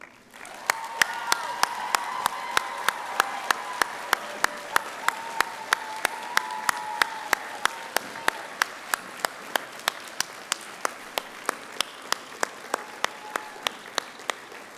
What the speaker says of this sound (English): graduates, will you give them a little shout out and applause now?